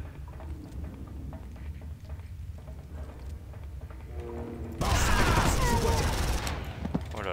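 Gunfire erupts in the video game Far Cry 1 on an aircraft carrier, a loud dense burst of rapid shots taking over after a stretch of quieter game ambience with scattered clatter.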